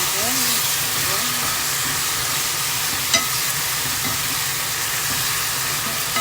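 Pork and string beans cooking in a pan for ginataang sitaw, a steady sizzling hiss with a single sharp clink of the stirring utensil partway through, heard close up.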